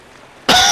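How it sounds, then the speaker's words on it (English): A single loud, close cough bursts out after a moment of near silence and carries on to the end. "I've still got the cough"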